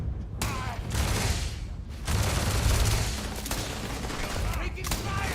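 Gunfire in the video game Starfield: loud, continuous, rapid shooting in dense volleys with brief lulls between bursts, close and intense.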